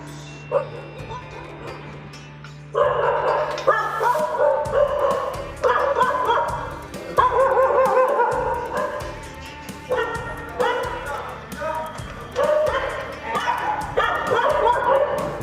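Several dogs bark and yip in bursts, fairly close, with whimpers between; a person's voice can be heard briefly among them.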